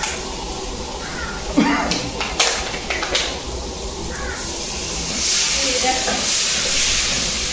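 Egg curry frying in a pan gives a hissing sizzle, at first under a voice talking nearby and then rising louder and steadier toward the end.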